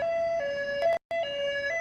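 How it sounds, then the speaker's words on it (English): An ambulance siren wails in alternating two-tone pitches, loud and close, with a short break in the middle. "that sound is coming from an ambulance"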